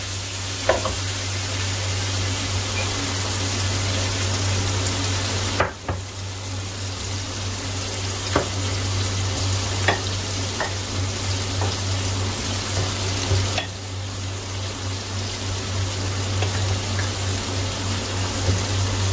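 Potatoes sizzle steadily in a pan as steamed spinach is mixed in, with a continuous hiss broken by scattered spatula clicks and a couple of louder scraping knocks.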